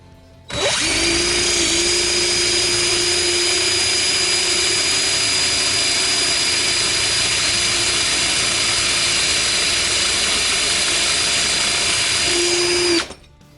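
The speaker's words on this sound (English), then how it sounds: "we have a little bit of a sharpening going on over here" A Harbor Freight drill bit sharpening tool grinds a drill bit with a steady, high motor whine and a harsh grinding hiss, starting abruptly and running evenly for about twelve seconds before stopping, close and without talk.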